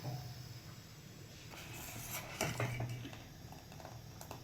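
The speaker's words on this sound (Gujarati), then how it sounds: "કઢીને છે ને આવી રીતે તમારે હલાવતા જ રહેવાનું" A spoon stirs moringa drumstick kadhi in a metal pot, faint scraping and light clinks, with a few sharper taps near the middle and otherwise quiet.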